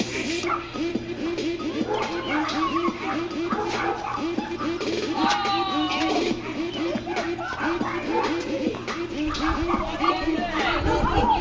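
A dog at a friend's house barks and yips in a rapid, continuous run of close, loud bursts, with people talking and chattering over it throughout.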